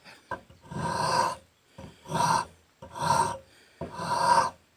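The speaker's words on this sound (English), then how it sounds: "Switch to rasp now." A rasp files a wooden knife blank in four slow, even strokes, each a harsh scraping burst with short pauses between, close and alone.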